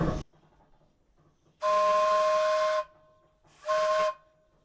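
A steam donkey's whistle, powered by a wood-fired boiler, blows twice, a long loud blast followed by a shorter one, with a faint hiss of steam between.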